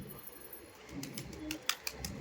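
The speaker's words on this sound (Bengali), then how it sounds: "এটা হচ্ছে নর পায়রা আর মাদি পায়রা" Giribaj pigeons, a male and a female, coo softly at close range with a few low murmuring calls, while faint clicks and a voice-like murmur sit in the quiet background.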